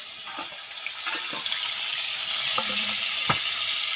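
Onion hits hot oil in a heated wok while a village-style fish curry is being made, producing a close, steady hiss of frying with a few light clinks of stirring.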